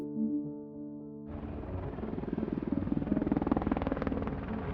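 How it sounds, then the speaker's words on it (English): Two Black Hawk helicopters take off from Jalalabad airfield, rotor noise cutting in sharply after a musical tone and building into a steady rhythmic thudding whir. "2 Black Hawk helicopters, equipped with secret stealth technology, take off from Jalalabad airfield and head towards bin Laden's compound"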